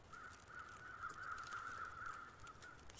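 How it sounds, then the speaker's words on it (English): Crows caw in the survival video game The Long Dark, a faint, distant, drawn-out cawing held for about three seconds over a low wind-like background hiss. "we got some crows returning"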